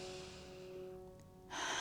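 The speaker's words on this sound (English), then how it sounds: "Inhale through the nose," A slow, soft breath drawn in through the nose during a mindful body-scan exercise, a faint airy rush that fades out before a brighter burst of breath noise at the end, with no talking.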